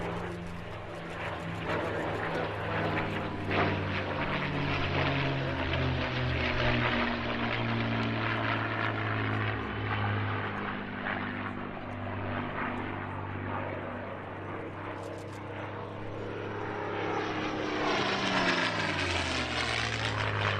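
A warbird formation of a Bearcat, Yak 9, Mustang and Corsair flies past at an air show, a long droning roar of piston propeller engines that swells, holds and slowly shifts in pitch as the aircraft pass overhead.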